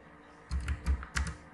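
Computer keyboard keys tapped in a short quick run of a few distinct clicks, close and fairly quiet, with no voice.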